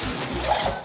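A zipper on a travel bag pulled in one continuous rasping stroke, close and fairly loud with no talk over it.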